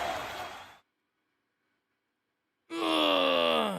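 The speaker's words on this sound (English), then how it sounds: "now I'm yawning" Someone yawns twice, a long breathy groan that trails off, then after a silent gap a second drawn-out, voiced yawn that rises and sags in pitch, loud and close.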